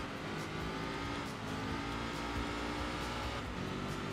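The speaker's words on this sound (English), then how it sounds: "Oh, I love the boxer sound of the engine." A flat-four boxer car engine in the racing game Enthusia Professional Racing gives a loud, steady, harmonically rich drone that holds for about four seconds with no talking.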